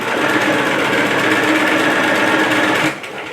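A sewing machine running fast while stitching an apron, a loud continuous whirring drone held steady for about three seconds before slowing down, close and without talk.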